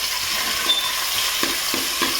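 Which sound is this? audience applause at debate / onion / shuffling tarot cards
onion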